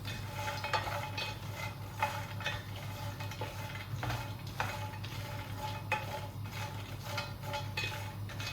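Almonds being stirred in a pan while toasting: repeated close scraping strokes at an uneven rhythm over a steady low hum from the stove.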